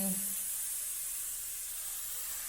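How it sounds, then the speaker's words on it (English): A steam cleaner sends out a steady, fairly faint hiss of steam while cleaning a guest house, with a brief low voice at the very start. "I'm here steam cleaning everything on my guest house and eventually my own house."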